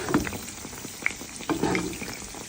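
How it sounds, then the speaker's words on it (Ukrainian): Quiet sizzling and light crackling of pastries frying in a covered pan over medium heat, with soft pops scattered through the clip. "буду жарити на середньому вогні під закритою кришечкою"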